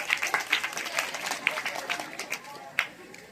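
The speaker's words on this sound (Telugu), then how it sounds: "అందరూ దివ్య క్లాప్స్ కొట్టండి" Children in a classroom clap for their classmate Divya, a brisk scatter of sharp claps over roughly three seconds, mixed with voices and light chatter in the room.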